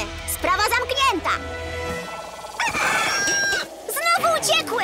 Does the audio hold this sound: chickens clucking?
yes